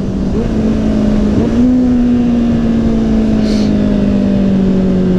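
Kawasaki Z800e four-cylinder motorcycle engine while riding: a steady, loud, smooth drone holding one pitch, rising slightly after a brief throttle blip, with constant wind rush throughout.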